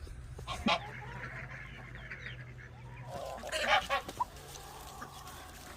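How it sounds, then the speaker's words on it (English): Chickens and other fowl at a backyard chicken coop cluck and squawk nearby, with a few louder honking calls in bursts over a low outdoor background. "as we leave the chicken coop and all the chickens follow me"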